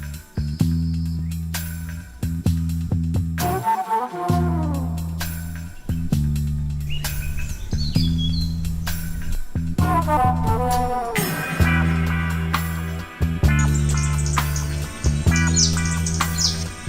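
Coastal forest birds in Goa call at dawn in the hot pre-monsoon season, scattered chirps, tweets and the odd squawk from several birds over a low steady tonal hum.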